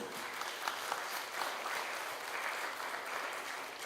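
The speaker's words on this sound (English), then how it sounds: "an applause for you all" An audience applauds the young participants at an official event, a steady, even wash of many hands clapping throughout, moderately distant and without talk.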